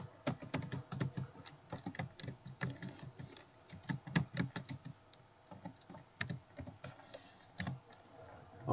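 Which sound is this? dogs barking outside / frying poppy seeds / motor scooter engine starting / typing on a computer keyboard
typing on a computer keyboard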